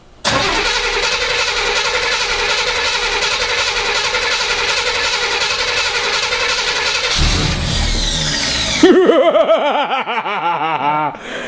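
An old car engine, just repaired with a new carburetor fuel line, cranks and fires into a loud, sustained idle that runs steadily for several seconds, then drops off and gives way to brief rattling and fluttering sounds near the end.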